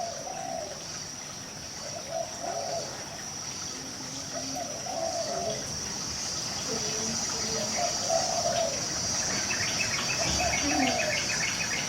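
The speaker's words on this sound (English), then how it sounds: "These cicadas have a interesting static sound level, and then all of a sudden they ramp up like 10 times as loud" Cicadas in Bali on a cool early morning, a steady high-pitched static drone running continuously, with bird calls and cooing dove-like notes scattered through the foreground.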